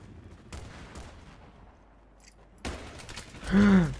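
Muffled gunshots and explosive bursts from Battlefield 3 multiplayer, loud and close, with a heavy rumbling blast near the end.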